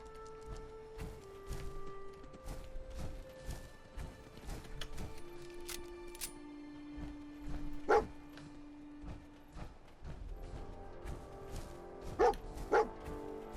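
Dogmeat the dog in Fallout 4 barks in scattered short yips and woofs over soft game music, with a couple of louder barks near the end.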